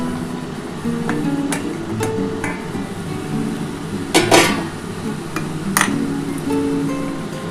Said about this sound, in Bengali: ঢাকাটা একটু খুলে দেখি বন্ধুরা